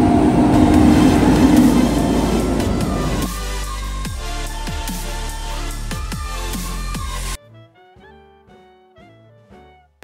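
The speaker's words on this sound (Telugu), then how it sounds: "ఇప్పుడేమో అసలు తొందరగా ఎప్పుడు వస్తుంది ఆ ట్రైన్" A train passing: loud rumbling with a drawn-out mechanical roar that eases partway through, then drops away abruptly after about seven seconds, leaving quieter tonal sounds.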